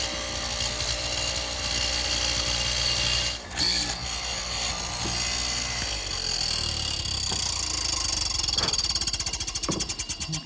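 A power tool chatters and rattles continuously as it widens a mortise in a wooden headboard piece, loud and steady with a brief dip partway through and faster pulsing toward the end.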